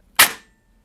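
A single sharp snap from an M4 AEG airsoft gun with a brushless motor, fired once on semi-auto, loud and close, then quickly gone into silence.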